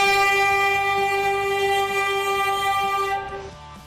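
A train in Kazakhstan sounds a long, loud, steady horn blast close by that cuts off near the end, with the rumble and clatter of rolling wheels underneath.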